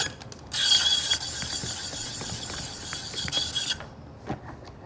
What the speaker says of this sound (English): I'm going to finish the first rivet that I started.